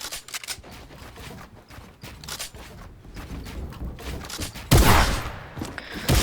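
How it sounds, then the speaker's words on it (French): Pump shotgun firing in a shooter video game, with a run of sharp, rapid blasts and clacks followed by one louder, heavy boom near the end, amid busy game noise and no talk. "très clairement, j'ai un shoot dégueulasse avec ce pompe"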